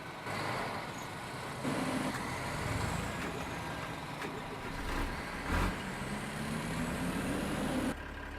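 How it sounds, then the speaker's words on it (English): Strange, jet-engine-like roar from a vehicle in the video game Farming Simulator 2013, a steady, broad rumbling drone with engine and air-brake character that swells slightly in the middle before cutting off sharply. "That was a weird sound. Sound like a jet engine taking off."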